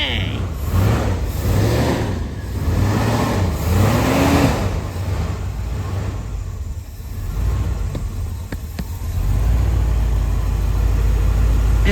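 A Ford 460 V8 engine running loud and close, rising and falling through several revs before settling into a rough idle.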